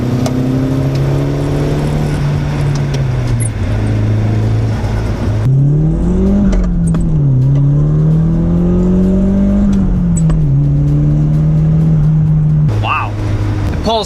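The small turbocharged engine of a Nissan 180SX Sileighty pulls hard toward a 7,500 RPM redline, a loud close drone rising and falling through the gears, with a voice talking over it.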